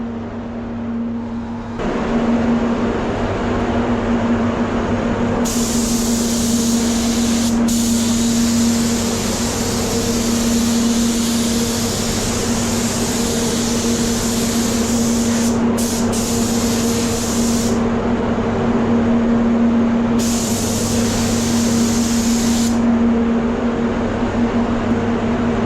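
A SATAjet X RP paint spray gun with a 1.2 setup, run at 2 bar with full fan and full volume, coats a vehicle. Loud hissing bursts of spray start and stop over a steady droning background.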